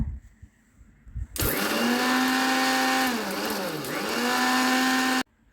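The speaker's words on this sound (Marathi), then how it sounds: "आता अर्धी वाटी साखर घालायची आणि हा गर चांगला बारीक फिरून घ्यायचा" A mixer grinder blending mango pulp with half a cup of sugar starts abruptly after quiet taps, whirring loudly and steadily for about four seconds with a brief dip in pitch, then cuts off sharply.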